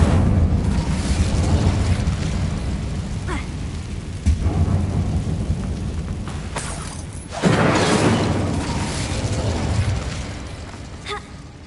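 The Incendio fire spell in Hogwarts Legacy, a loud whooshing burst of flame with crackling, shattering impacts, set among a dense mix of spell effects and rumbling combat noise.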